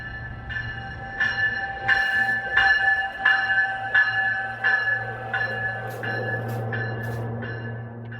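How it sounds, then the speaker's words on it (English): An RTD commuter rail train approaching a railroad crossing in Old Town Arvada, its crossing bell dinging loudly at a steady, even pace over a low, continuous train rumble. "the dinging of the railroad crossing, moments before the RTD commuter rail barrels through Old Town Arvada"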